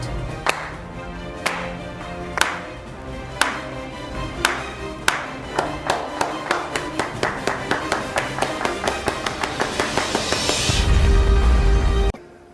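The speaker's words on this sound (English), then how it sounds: "Leading up to every kickoff, let's slow clap it out." A slow clap builds from single hand claps about a second apart, steadily quickening into a rapid run, then swells into a loud wash of sustained applause before cutting off abruptly, with no talking over it.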